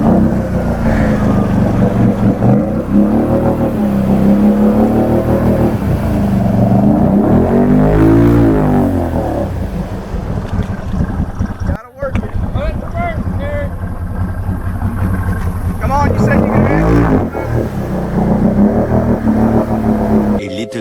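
A Can-Am Renegade ATV engine revs hard and loud with the belt smoking, surging and dropping in pitch over a long stretch as it strains, with wind buffeting and voices breaking in.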